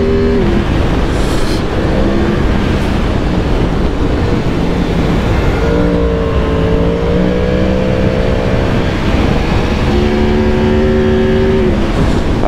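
A Yamaha MT-10 motorcycle engine drones steadily and loudly while riding on an open road, its pitch shifting up and down with throttle changes and wind roar running throughout, with no voices.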